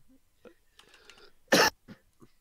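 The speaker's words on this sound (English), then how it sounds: "I just actually turned my mic on to cough" A podcast host lets out a single sharp, loud cough close to the microphone, preceded by soft throat sounds and faint murmuring, with a couple of smaller throat noises after.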